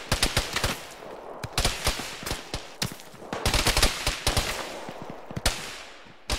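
Distant enemy infantry gunfire in a military shooter game, with repeated bursts of rifle and machine-gun shots in irregular clusters, some sharp and close, others softer and farther off.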